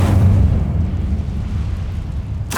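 A fire spell cast in Hogwarts Legacy: a loud, roaring whoosh of flame that rumbles steadily for a couple of seconds, ending in a sharp burst.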